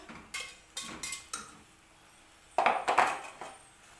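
Pasta being stirred into a thick white sauce in a pan, giving a short run of clattering scrapes and knocks, then a louder burst of utensil clatter against the pan, close and with no talking.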